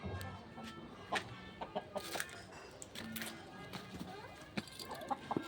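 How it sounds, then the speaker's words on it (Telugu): Chickens cluck in a home garden among curry leaf, tomato and lemon trees, with short, scattered calls rising over steady outdoor background noise. "మా కోడి"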